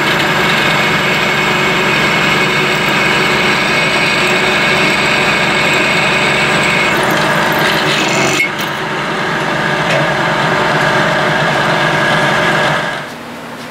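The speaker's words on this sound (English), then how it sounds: "Alright, so I have the drill press set up," A steady, loud drill press drone with a mechanical whine runs throughout as it drills through a bolt, shifting briefly midway and dropping off near the end.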